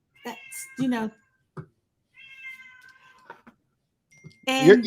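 A house cat meows several times nearby in quiet surroundings, the calls spread out and separated by pauses, with the loudest meow coming at the end.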